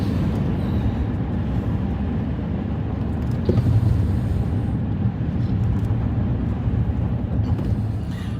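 A steady, deep Hemi V8 engine rumble runs throughout, a heavy low drone with a slight swell midway, like a large motor idling or cruising nearby.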